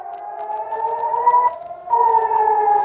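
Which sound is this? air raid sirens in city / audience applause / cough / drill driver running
air raid sirens in city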